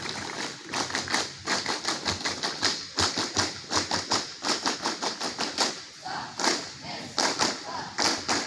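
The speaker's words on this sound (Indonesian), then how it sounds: "2 kali tepuk Pramuka" Pramuka scouts at a camp opening ceremony clap in a fast, patterned rhythm, two rounds of crisp, loud group claps in tight bursts with brief pauses, a short gap separating the rounds.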